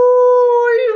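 A storyteller's voice imitates a werewolf howling, one long sustained close tonal wail held steady and then wavering and breaking off at the end.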